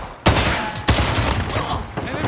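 Bursts of video game shooter gunfire, two sharp loud volleys followed by a rattling stretch of shots, with a player's voice briefly mixed in.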